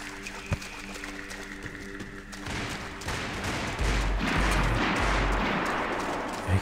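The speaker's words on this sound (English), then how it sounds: "I'm not gonna like go towards the gunfire" Gunfire crackles during a Max Payne 3 multiplayer match on PC, scattered shots at first, then a denser stretch of bursts and rattling fire at mid distance, mixed with game ambience.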